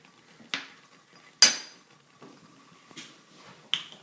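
A metal spoon clinks and scrapes against a glass of water while stirring in salt, giving a few sharp, sparse chimes and taps close by, otherwise quiet.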